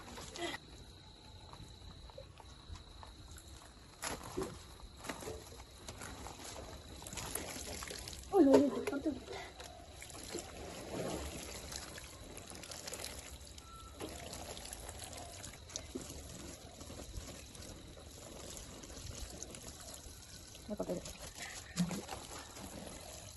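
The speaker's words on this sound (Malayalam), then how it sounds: "നമ്മള് വെള്ളം ഒഴിക്കാണ്." Water poured onto a planted seed hole in garden soil, a faint trickling and splashing under background noise, with a brief louder pour near the middle and quiet voices nearby.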